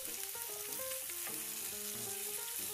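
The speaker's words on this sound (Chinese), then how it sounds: "回到煎肉的平底锅，你看皮煎得很漂亮咯。" Meat for a beef, pork and Italian sausage bolognese sizzles steadily in a frying pan, a continuous crackling hiss with small pops, heard alone without talk.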